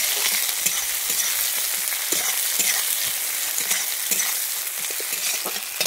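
Chopped onions frying in a pan for a fish-head and cabbage curry, a steady close sizzle running throughout with soft scraping taps from stirring at irregular intervals.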